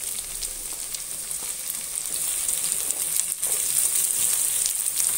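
Tomatoes frying with onions in a pan for a mutton coconut milk curry, a steady, close hiss of sizzling oil running the whole time with no one talking.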